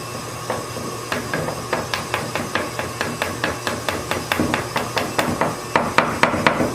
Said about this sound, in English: So I'm going to whisk this away.